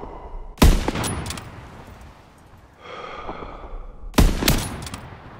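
Two sharp, loud rifle shots ring out a few seconds apart in the World War II shooter Call of Duty WW2, each with a short echoing tail, and low battlefield ambience fills the gap between them.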